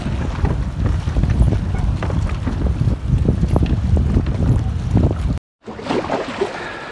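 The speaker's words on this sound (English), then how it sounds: "Pretty windy out in the middle." Strong wind gusts buffet the microphone on open lake water during a spring canoe trip on Nunikani Lake in the Haliburton Highlands, a steady low roar with whitecap chop that cuts out briefly before resuming.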